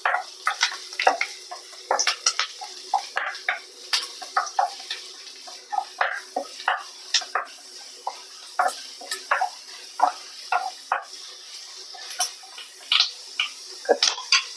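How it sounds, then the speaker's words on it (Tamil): Onions and curry leaves sautéing in hot oil for a Tamil chicken liver varuval, with a faint sizzle under repeated sharp spatula scrapes and taps against the pan in an uneven rhythm. "வெங்காயம் கருவேப்பிலை நல்லா வதங்கட்டும்"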